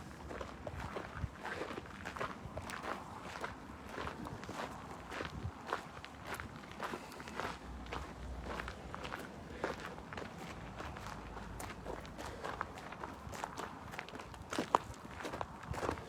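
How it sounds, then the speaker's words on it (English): Two people walk outdoors at sunrise, their footsteps a steady, soft, overlapping crunch of treads keeping a regular pace throughout, with no one talking. "I don't know if you hear the second set of footsteps here"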